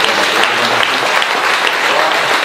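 Church congregation in Martinique applauding and acclaiming the Lord, a steady dense wash of clapping hands with faint voices mixed in throughout.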